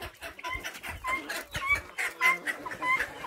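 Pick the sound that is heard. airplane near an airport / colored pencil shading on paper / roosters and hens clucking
roosters and hens clucking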